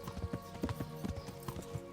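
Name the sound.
horse galloping in Kingdom Come: Deliverance video game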